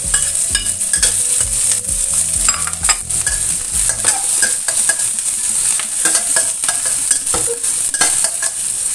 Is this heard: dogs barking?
no